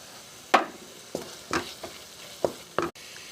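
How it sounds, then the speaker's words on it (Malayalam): Tomato masala with turmeric, chilli and coriander powders is sautéed in a pan: several distinct scraping stirs over a soft, low sizzle, close and unhurried. "ഇനി കുറച്ച് ഗരം മസാല കൂടെ ചേർത്തിട്ട് നമുക്കിതൊന്ന് വഴറ്റി കൊടുക്കാം."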